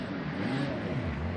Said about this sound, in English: Lewis Tyndall jumps on board, and the number 73 Ginetta trundles its way back down the pit lane.